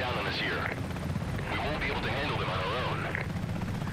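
Helicopter rotor and engine drone in the video game Comanche, a steady mechanical hum running under overlapping game sound effects and chatter across the whole stretch.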